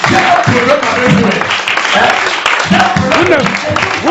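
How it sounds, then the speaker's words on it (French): A church congregation applauds, a dense, loud wash of clapping mixed with voices speaking and calling out over it, continuous throughout. "Applaudissez pour le Seigneur."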